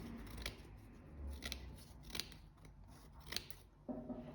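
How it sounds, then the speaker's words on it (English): Scissors snip through quilt wadding in a handful of quiet, crisp cuts spaced about a second apart, close to the ear. "Then we cut our piece of wadding."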